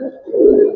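An old-breed pigeon coos in a single soft, throaty burst that swells and holds near the end, close by and alone.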